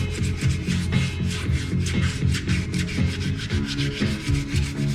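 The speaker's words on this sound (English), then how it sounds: "And I'm sanding with 800 grit, just lightly, not trying to dig in at all" Steady rhythmic rubbing of 800-grit sandpaper lightly over a painted bike fork, with quick back-and-forth strokes, close and continuous.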